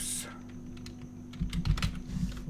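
Typing on a computer keyboard while editing text in Photoshop: scattered close key clicks and taps over a steady electrical hum, with a denser cluster of keystrokes near the end.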